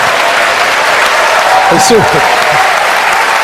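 Applause from an audience at a French business awards ceremony, a steady patter of clapping that carries throughout while a voice speaks briefly over it near the middle.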